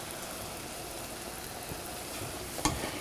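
Mushrooms and onions fry in a red nonstick granite pan with a soft, steady sizzle and crackle, ending in a brief utensil clink near the close.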